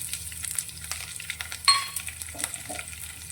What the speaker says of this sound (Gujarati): તો રાઈ આપણી થોડી ચટકવા લાગે એટલે તેની અંદર અત્યારે મેં તીખાસ માટે લીલા મરચાં 2